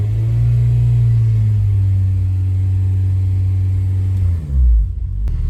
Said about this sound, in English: only if I rev it that loud